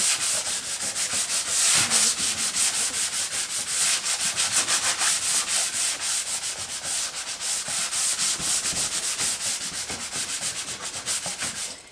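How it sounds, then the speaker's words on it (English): Sandpaper rubbed by hand over a milk-painted wooden washstand, a steady rhythmic scratching of quick back-and-forth strokes, close and continuous for about twelve seconds with no voices. "So this sanding paper is going to come in handy anyway. I just go over it lightly"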